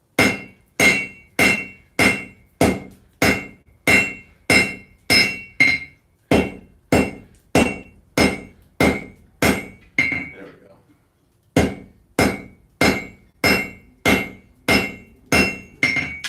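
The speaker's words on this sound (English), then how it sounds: "Alright, hot cutting time. Who needs a chisel when you got an anvil?" A hammer hot-cuts steel bar stock on an anvil at a forge, ringing, metallic blows struck close and loud in a steady rhythm of about one per second, with a short pause partway through.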